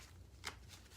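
A deck of tarot cards gets a brief, quiet shuffle, one soft riffling burst with faint rustles after it.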